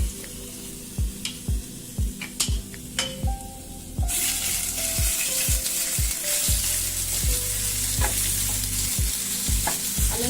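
Ginger garlic paste frying in oil for an egg gravy starts with a series of rhythmic clicks and scrapes, then a loud, steady sizzle rises abruptly and continues close up.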